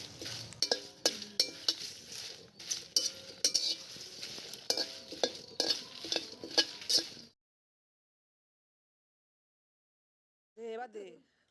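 Whole spices for pickle are stirred and dry roasted in a dry pan, with repeated scraping and clinking strokes of a utensil against the metal for several seconds before silence, then a brief voice near the end.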